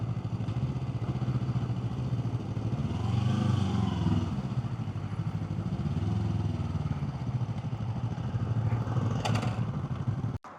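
A motorcycle rolls up on a street in Betong and settles into a steady engine idle, with low mid-pitched rumble and some clatter throughout, before cutting off abruptly at the end.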